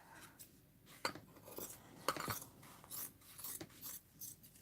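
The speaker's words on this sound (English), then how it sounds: "And I'm going to cut it up here." Scissors cutting through fabric or paper while making a crochet hook holder, a series of close, quiet snips and rustles with irregular pauses between cuts.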